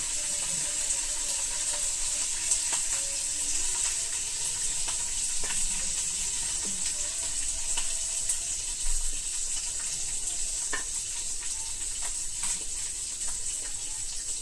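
Water boiling in a pot as a cup of semolina (rava) is poured in, giving a steady bubbling hiss with scattered soft pops throughout, close and continuous.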